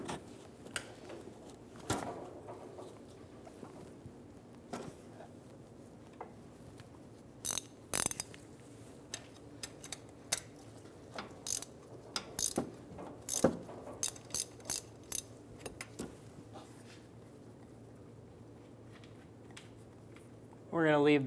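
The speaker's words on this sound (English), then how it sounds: "Using a 19mm, we're going to loosen the nut on the top of the transmission mount." Ratchet wrench with a 19mm socket loosening the top nut of a transmission mount on a 2007-2011 Toyota Camry, giving scattered bursts of sharp metallic clicks between quiet pauses, close up.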